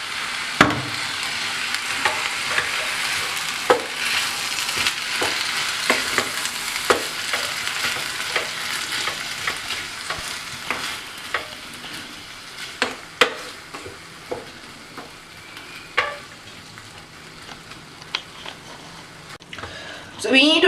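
Risotto rice with vegetables is stirred in a pan as stock is added, giving soft wet scraping and gentle sizzling with intermittent spoon knocks throughout.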